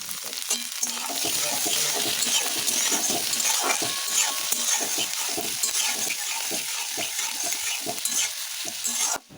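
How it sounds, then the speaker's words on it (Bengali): Onion, green chilli and tomato fry in a wok for a jackfruit chilli dish, with a dense, loud sizzle and frequent stirring scrapes close by until a sudden stop at the end. "কাঁচা লঙ্কাটা পেঁয়াজের সাথে ভালো করে কিছুক্ষণ ভাজার পর আমি দিয়ে দেব কেটে রাখা টমেটো"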